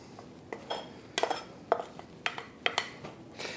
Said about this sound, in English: And just fold the apples in.